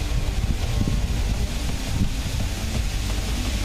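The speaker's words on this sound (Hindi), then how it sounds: "यहाँ पर तूफान के आने से पहले ही तेज हवाओं के साथ साथ जोरदार बारिश शुरू हो गई है।" Strong cyclone winds from Tauktae buffet the microphone in Gandhinagar, heavy rain mixed in, a loud, continuous roar with low gusty rumbling throughout.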